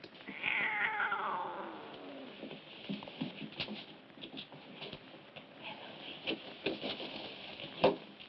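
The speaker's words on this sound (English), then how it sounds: "Hey, cat, get." A domestic cat meows and caterwauls indoors in a bedroom, with a drawn-out falling cry near the start followed by softer scattered sounds and faint rustling.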